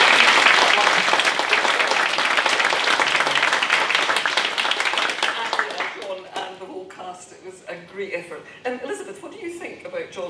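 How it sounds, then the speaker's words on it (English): A theatre panel audience gives Andy a full round of applause that fades after about six seconds into scattered claps as talking resumes. "let's give Andy a round of applause for getting that on stage"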